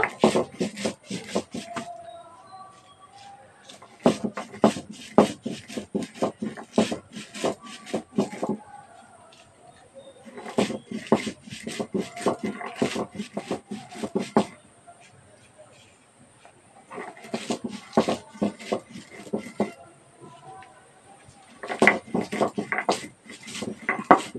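Repeated rough scraping and grinding strokes as roasted spices are ground on a grinding stone come in rhythmic bursts, pausing now and then, with a voice speaking between.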